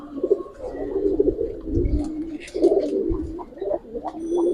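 Pigeons coo close by in low, throaty rolling calls, several overlapping phrases repeating through the short stretch.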